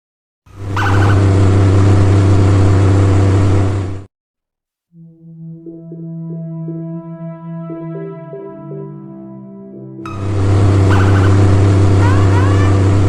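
Car driving off in an animated film, two loud bursts of engine roar separated by a quieter tonal musical passage, the motor swelling strongly at the start and again at the end.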